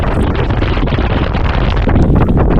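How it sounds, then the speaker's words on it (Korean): Strong biting wind blasts across the exposed Sobaeksan mountain ridge in winter, a loud, continuous roar buffeting the microphone without pause. "칼바람이 세차게 불고 있습니다."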